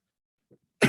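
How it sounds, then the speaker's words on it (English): A single sharp, close cough bursts out near the end, preceded by a brief faint throat sound and otherwise near silence. "So forgive me if I cough through this."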